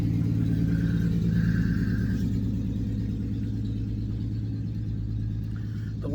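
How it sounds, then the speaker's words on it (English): A loud vehicle rumbles past outdoors, a deep engine drone that holds strong and then gradually fades as it moves away, with no voices. "let me wait until this loud vehicle goes by"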